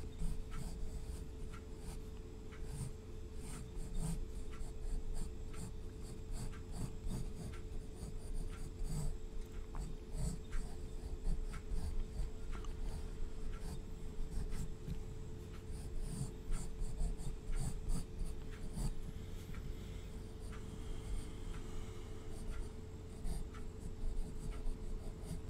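Steady scratching of a pencil or pen on paper while sketching a cartoon weasel's tail, close and quiet, with continuous strokes and small tapping marks throughout and no talking.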